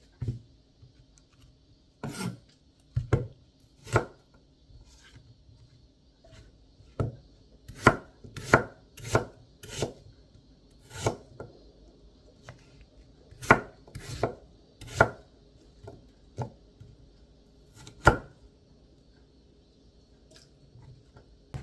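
A knife chops through sweet honey-core apple on a cutting board for a Korean apple side dish, sharp crisp cuts falling in irregular bursts and quick runs, close and clear against a quiet kitchen.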